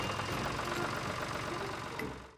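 An old modified tractor engine runs at a steady, faint idle with a low, even chug throughout before cutting off abruptly at the end.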